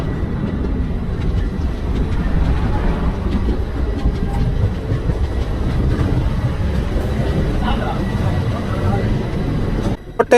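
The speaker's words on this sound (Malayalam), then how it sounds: "നമ്മുടെ ട്രെയിൻ 1ാമത്തെ പ്ലാറ്റ്ഫോമിൽ കയറിയതും അപ്പുറത്ത് 2nd പ്ലാറ്റ്ഫോമിലൂടെ മധുര ട്രെയിൻ ക്രോസ് ചെയ്യുന്നത് കണ്ടതാണ്." A train running near Kottayam railway station, with a Madurai-bound train crossing on the adjacent platform, a loud continuous low rumble and rolling clatter throughout, ending in a couple of sharp knocks.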